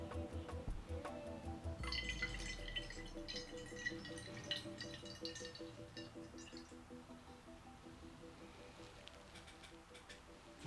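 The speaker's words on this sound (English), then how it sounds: "let's just pour through a funnel at an angle" Blueberry and blackcurrant wine trickles through a funnel into a bottle, a quiet close gurgle with small drips and clinks, faint and steady.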